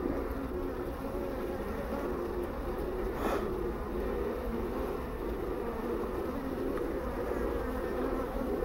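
A swarm of Japanese honeybees drones steadily as they return into a hive box, a dense, continuous buzz of many insects with no talking.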